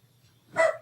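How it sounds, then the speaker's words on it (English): A single short dog bark rings out from a moderate distance over a faint low hum, then stops. "Can you guys hear him barking?"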